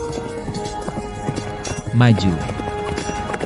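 A horse runs at speed with quick clip-clop hoof beats under a shouted voice and a brief whinny-like cry, the hooves close and rhythmic throughout.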